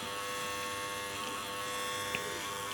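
A steady, close buzzing whine hums inside an Apple Green 20000W grid-tie inverter that fails to run at full output, drawing about 3 amps and roughly 100 watts, with no talk over it.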